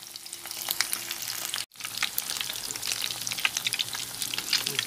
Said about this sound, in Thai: ทอดไฟอ่อนๆทอดไปเรื่อยๆนะคะ